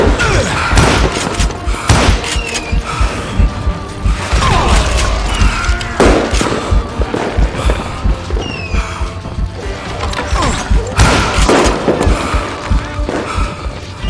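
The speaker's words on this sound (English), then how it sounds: "Watch where you're shooting!" Gunfire rings out in the Western shooter game Call of Juarez: Gunslinger, a loud, busy stream of shots, thuds and impacts in quick succession, with brief voices mixed in.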